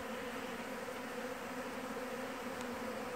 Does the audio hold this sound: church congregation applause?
no